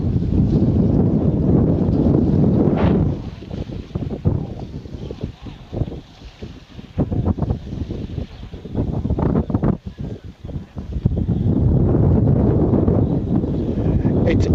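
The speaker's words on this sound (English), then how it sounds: "Yeah, it's proper windy now." Strong wind buffets the microphone outdoors in loud, continuous roaring gusts that ease briefly in the middle and then build again.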